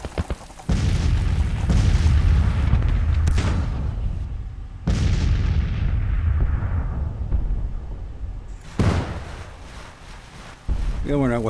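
Artillery fire in the Civil War strategy game Grand Tactician: The Civil War, with four heavy, loud booms a few seconds apart, each rolling off in a long rumbling tail.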